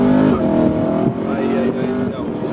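An Audi car revs and accelerates with a droning, rising engine tone, heard close and continuous under people talking.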